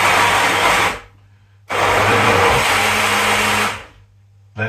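A blender whirs loudly, blending mince pie and milk into a smoothie, in two steady bursts of about one and two seconds separated by a pause, with a faint low hum between runs.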